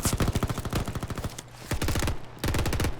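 Automatic AK-47 fire in the shooter game Veiled Experts, loud rapid bursts of rhythmic shots with brief pauses between three strings of fire, no talking.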